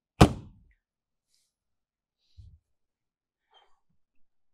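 An exterior storage compartment door on a 2025 Newmar Bay Star RV shuts with a single solid thump, followed by near silence and a few faint small noises.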